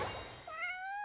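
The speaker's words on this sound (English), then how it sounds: "Oh, kitty." A cat in the Genshin Impact video game gives one clear, rising meow, close and fairly quiet, after a brief soft rustle, with no talk over it.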